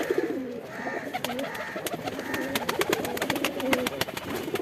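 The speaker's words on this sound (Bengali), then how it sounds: "ভিউয়ার্স, ভয়ে ভয়ে কবুতরগুলো ছাড়লাম, কারণ কবুতরগুলোর শরীরে রোদ প্রয়োজন।" Pet pigeons cooing in repeated low, throaty calls after being let out into the sun, close and fairly loud, with sharp clicks and flutters scattered through.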